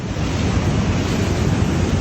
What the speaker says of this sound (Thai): คลื่นยังใหญ่ครับ